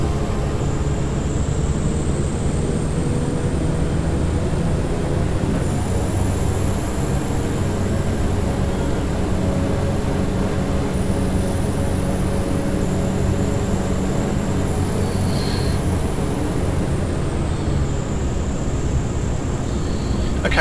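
A BAe Jetstream 32 in the X-Plane flight simulator taxis and swings through a turn, its steady engine drone running on without a break. The hum holds at an even, loud level with faint higher whines above it, and no one speaks.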